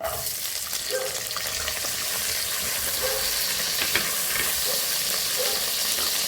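Steady sizzling of food frying in hot oil on a tawa, a continuous crackling hiss with occasional stirring scrapes, close up and fairly loud.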